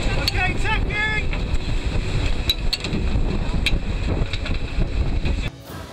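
Racing sailboat on an ocean race leg, with steady wind roar and water rush across the microphone, crew voices in the background and a few brief squeaky tones near the start.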